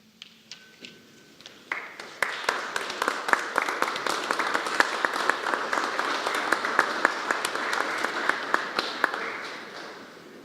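Sustained applause from an audience honouring award-winning teachers at a Mexican presidential press conference, starting quietly and swelling into dense, steady clapping that holds for several seconds, fairly distant in a large room.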